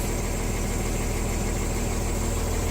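A diesel engine idles steadily at close range, a loud, even, low rumble with a regular pulsing throb and no talking.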